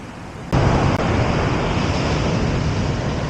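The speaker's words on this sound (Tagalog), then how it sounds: "Grabe, lakas ng alon." Loud, steady roar of heavy surf crashing close by on the beach at Cabangan, Zambales, with wind rumbling against the microphone throughout.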